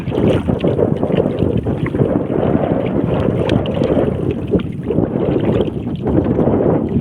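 A small bangka rocks on open water in gusty wind, with steady broadband rushing and buffeting from wind on the microphone throughout and no voices.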